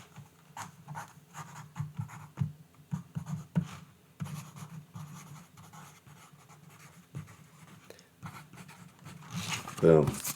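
A pen scratching across a notes page as a chapter title is written out in large letters, in short strokes and pauses, with a voice talking over it.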